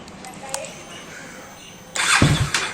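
A KTM Duke 250 BS6 motorcycle, just repaired for a cam chain noise, sits quiet with faint background sound before its engine is started and catches loudly in the final second.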